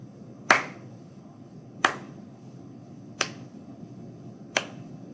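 Four crisp single hand claps spaced evenly about a second and a half apart, with silent rests between them, played as a rhythm exercise in an online music lesson; close, clean and isolated.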